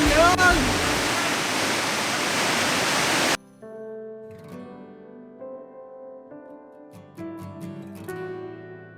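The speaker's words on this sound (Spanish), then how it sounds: "Llegando a lo que es una cueva que tiene una caída de agua atrás" A waterfall near a cave in Bajos del Toro, Costa Rica, roars loudly and close for about three seconds. Then it cuts off abruptly to a much quieter stretch with voices.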